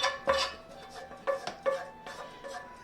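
Chicken fried rice scooped from a metal skillet into a container, a series of clinking, scraping utensil strikes against the pan in an uneven rhythm, close and clear with no talking.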